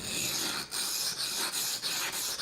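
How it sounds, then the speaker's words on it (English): A knife blade scraping back and forth across a coarse, aggressive sharpening stone, with steady rasping strokes and brief pauses between passes, close and loud. "you can hear the coarseness of that stone. Very aggressive stone."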